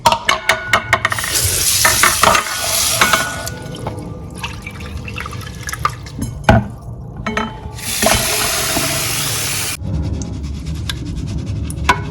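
Millet grains shaken and swirled in water in a calabash or bowl to separate out stones, giving repeated splashing, sloshing bursts with gritty rattling, loud and close, in several rounds with brief pauses.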